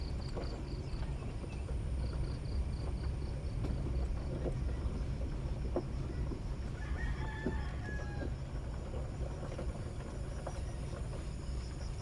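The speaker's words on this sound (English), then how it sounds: "You can hear the cock crowing in the background there." A rooster crows faintly in the distance over a steady outdoor background hum in the provincial Philippines, with light bird chirps scattered through.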